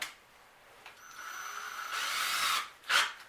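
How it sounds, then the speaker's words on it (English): A power drill bores pilot holes in wood for a hive stand, its motor whine rising and running steadily for about two seconds before spinning down, then a short burst near the end. "drill my pilot holes."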